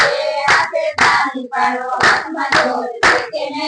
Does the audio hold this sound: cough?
no